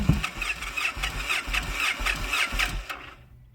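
A Victory Vegas motorcycle engine cranks with the choke on, a rapid rhythmic starter chug repeating for about three seconds before cutting off abruptly, loud and close.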